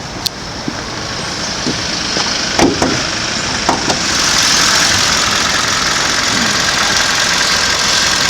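A 2011 Kia K5 LPI engine with 49,000 km idles with a continuous low rumble, broken early on by a few sharp knocks and clicks nearby. It then settles into an even drone.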